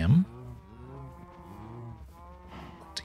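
A Minecraft cow moos in the video game, a few drawn-out lowing calls close and clear, with a short burst of other game noise at the start and end.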